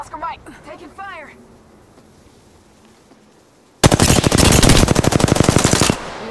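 Automatic gunfire in the video game Apex Legends: after quiet voices, a loud, rapid, sustained burst lasts about two seconds and then cuts off.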